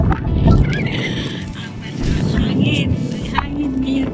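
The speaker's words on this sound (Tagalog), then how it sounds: "Hangin yun, guys. Mahangin yun." Wind buffets and rumbles against the microphone in low gusts at Houthaven in Amsterdam, with a voice talking over it and scattered background noises.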